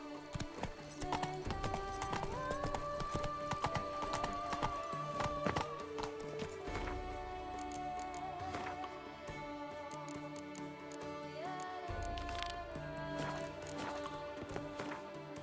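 Horse hooves clip-clop at a steady canter in The Witcher 3, rhythmic and close, layered under sustained game music with no talking.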